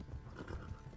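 A horse gallops in Kingdom Come: Deliverance, its hooves thudding in a rapid, unbroken clip-clop rhythm at a steady, moderate level throughout.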